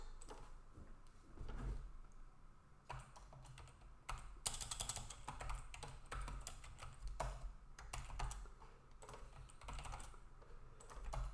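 Typing on a computer keyboard while writing C loop code, a steady patter of keystrokes with denser bursts throughout, fairly quiet and with no talk.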